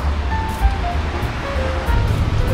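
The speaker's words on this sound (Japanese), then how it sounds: "こちらがセーヌ川です。" Water rushes and splashes loudly along the Seine in Paris, a steady surf-like roar with wind buffeting the microphone and faint tonal hints underneath.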